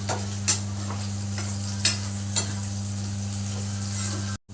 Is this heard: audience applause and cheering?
no